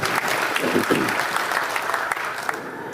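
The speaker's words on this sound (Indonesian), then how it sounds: "Beri tepuk tangan untuk tamu-tamu kita" Honoured guests at a KADIN (Indonesian Chamber of Commerce) gathering receive steady, full-room applause, many hands clapping continuously at close range for the whole stretch without a break.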